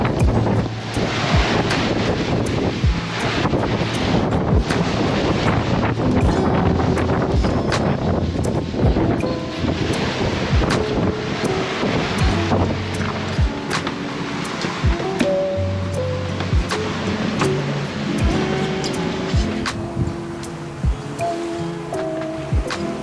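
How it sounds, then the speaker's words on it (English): Strong squally wind buffeting a sailboat at sea, a constant loud roar of gusts and wind noise across the microphone, with waves and water rushing underneath throughout. "the wind got stronger and stronger"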